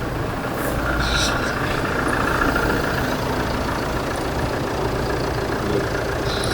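Three car engines idling steadily with a constant low rumble, close by, while a voice talks over the running motors.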